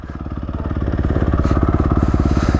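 Honda CRF 250 dirt bike engine with knobby tires, a close, loud, rapid thumping putter whose pulses quicken slightly as it runs.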